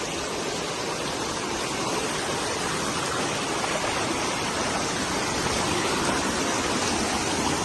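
A hidden waterfall near Rishikesh makes a loud, continuous rush of falling water that fills the whole scene evenly, with no voices.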